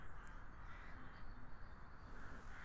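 Blackbirds caw faintly in an ASMR roleplay scene, heard as soft distant calls over a steady background hush.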